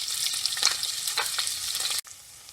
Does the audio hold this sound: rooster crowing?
no